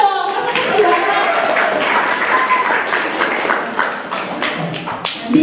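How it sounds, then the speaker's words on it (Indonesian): Students and staff at a vocational school closing event clap loudly and continuously, a close, busy patter of hands mixed with chatter and talk throughout. "Tepuk tangan dong, masa sedih banget."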